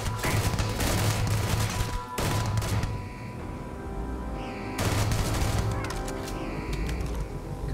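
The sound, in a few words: gunfire from the video game Starfield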